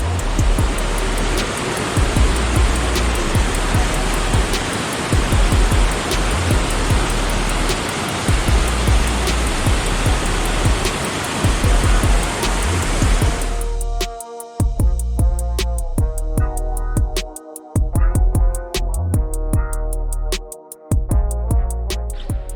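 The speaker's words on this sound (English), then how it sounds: "we are in the middle of that river crossing" River water rushing at a hiking crossing near Mt. Bond and Bondcliff in New Hampshire, a loud, continuous broadband roar close by that shifts to a choppier, uneven wash partway through.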